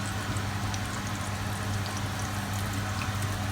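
Chorizo frying in hot oil gives a steady, even sizzle and crackle that holds without a break, with a low hum underneath and no voices.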